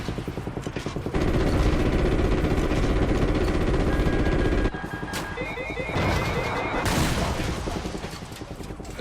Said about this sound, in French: La DCA ennemie nous tire toujours dessus de derrière les cheminées.